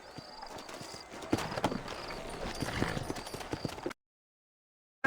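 Horses in the PC version of Red Dead Redemption, set in New Austin, clop their hooves in a busy, steady stream with faint whinnies mixed in, then the sound cuts to silence near the end.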